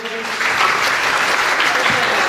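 Enthusiastic audience applause greets a speaker at a women's Arya life-building camp in Vashi, swelling from a brief pause into loud, dense clapping that holds steady to the end.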